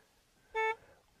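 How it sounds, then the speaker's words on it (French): Car horn, a single short, clear toot lasting about a quarter second, standing out over quiet background noise. "ce sera avec l'avertisseur sonore, par exemple si un véhicule vous recule dessus"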